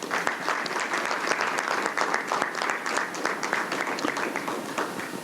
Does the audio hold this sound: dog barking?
no